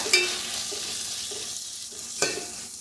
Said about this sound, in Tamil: இப்போ இதை நல்லா வந்து வதக்குங்க தக்காளி வந்து நல்லா வதங்கணும்